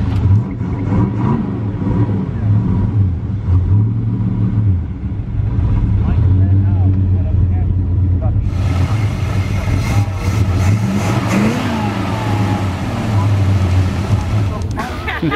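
A 1964 Barracuda Valiant hot rod engine runs with a steady, loud low rumble that grows brighter and harsher partway through, under nearby conversation.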